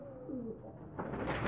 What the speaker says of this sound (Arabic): هنشوف حمامة تانية أهو، العش أهو